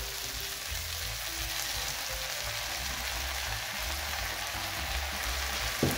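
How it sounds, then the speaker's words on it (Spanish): Zucchini and eggplant frying in a pan for a pisto vegetable stew, a soft, steady sizzle with low background rumble and a small clatter at the end. "vamos a ir echando nuestro calabacín y nuestra berenjena"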